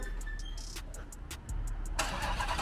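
A car engine cranks and catches with a rising rumble, sounding close and steady, a sputtering start that settles into a louder run near the end.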